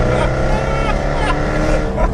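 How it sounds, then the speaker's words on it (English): A 2014 Jaguar F-Type's exhaust rumbles loudly and close with a low, continuous burble, a few faint crackling pops riding on top, while someone talks over it. "my favorite part isn't that exhaust note, it's kind of the burble as it backfires"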